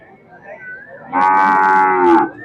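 Cattle at a busy cattle market in Erode, one cow letting out a single loud, drawn-out moo lasting about a second, alone and close by with faint background murmur before it.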